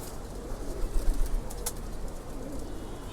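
Pigeons in a loft cage of separated females give soft, low cooing under a steady murmur, with a brief flutter or rustle near the middle; fairly quiet and close.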